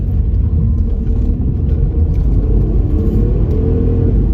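Alfa Romeo V6 engine rumbling as the car drives, a deep continuous throaty drone heard close from the cabin, loud and steady throughout with no speech.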